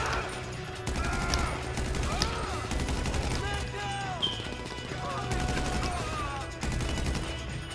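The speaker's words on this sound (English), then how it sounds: "That auto aim had me shooting at the ceiling" Gunfire in GTA cracks out in rapid bursts and volleys, loud and close, over a busy game mix of music and effects; someone talks over part of it.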